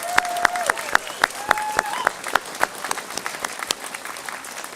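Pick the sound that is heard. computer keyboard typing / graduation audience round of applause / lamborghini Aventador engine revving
graduation audience round of applause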